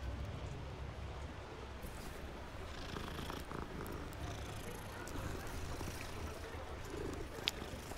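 A cat in the Hogwarts Legacy video game purrs as a continuous low rumbling drone with soft ambient game sounds around it and faint bird-like cooing, steady and fairly close, with no talking.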